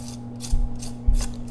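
A knife saws through the seared crust of a bone-in ribeye steak, giving a few raspy scraping strokes close up with short bursts of crunch, and no voices.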